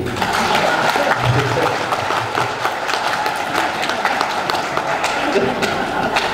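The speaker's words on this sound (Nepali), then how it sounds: "किन फेरि नबजाएको ताली?" An audience at a political speech applauds in a dense, continuous wash of clapping with scattered thumps, holding at a steady level throughout.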